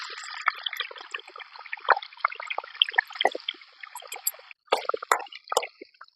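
Brinjal pieces dropped into hot oil after cumin fry with a dense crackle and sizzle, broken by sharp pops and spits. The frying is steady and close, then stops briefly before starting again.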